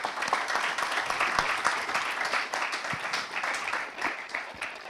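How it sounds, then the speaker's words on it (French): An audience applauds at the close of a round-table discussion, brisk dense clapping with audible individual claps, holding steady for several seconds. "Je pense qu'on peut les applaudir."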